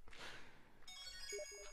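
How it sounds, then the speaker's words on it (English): A phone rings with a bright electronic ringtone of sustained tones starting partway in, fairly close and clear, following a brief noisy rustle, with no talking over it. "my phone just went"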